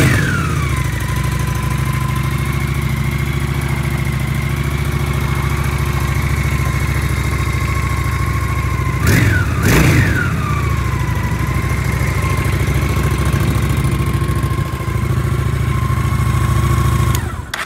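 A 2012 Honda VT 750 S motorcycle on its standard exhaust, idling with a steady loud thumping burble, then blipped twice in quick succession around the middle before settling back to idle.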